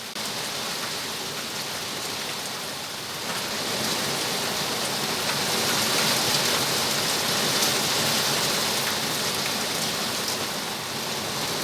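A heavy rain downpour beats on an allotment garden in the UK as a dense, steady hiss of drops on surfaces that swells slightly partway through and stays loud throughout, with no talking.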